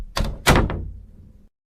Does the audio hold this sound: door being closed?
yes